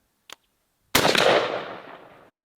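A single loud, sharp shotgun blast from a Retay Masai Mara fitted with a Kicks Goblin Thunder .560 choke, firing Kinetic Gunwerks 9.5 shot at a target 40 yards away outdoors, fading after a brief click.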